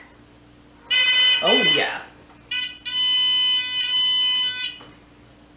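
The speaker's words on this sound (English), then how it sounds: "we're going to make the buzzer buzz" A solar-panel-powered buzzer wired into a simple circuit sounds a loud, steady electronic tone in two bursts, the second longer and unbroken, with a brief spoken remark overlapping the first.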